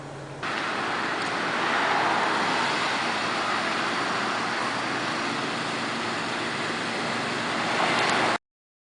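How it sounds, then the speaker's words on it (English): A car backs slowly into a parallel parking space, giving a steady, moderately loud low rumble of engine and road noise that holds evenly for about eight seconds and then cuts off. "Now I back slowly until I can see the pole in the passenger's window."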